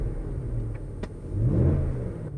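Range Rover Autobiography P530 long-wheelbase seven-seater with BMW's 4.4-litre petrol V8, warmed up and idling smoothly; a steady low engine hum swells slightly midway with a brief faint click, no voices.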